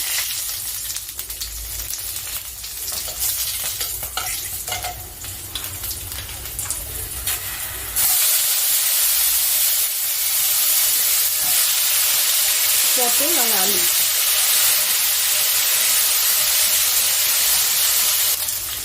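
Black cumin seeds and green chillies hit hot frying oil in a home kitchen, a sudden loud, steady sizzle and hiss that jumps up partway through and carries on, with scraping and talk under it earlier.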